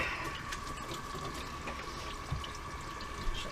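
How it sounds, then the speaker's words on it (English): Running tap water splashing steadily and softly over about two pounds of russet potatoes being washed in a kitchen sink, with a few light knocks. "about 2 pounds of russet potatoes, which I'm just going to give a wash."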